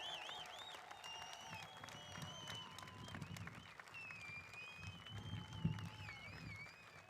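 Crowd applause at a 'Make America Great Again!' political rally with Vice President Pence, steady clapping from a distant audience with some cheering, moderately loud and sustained throughout.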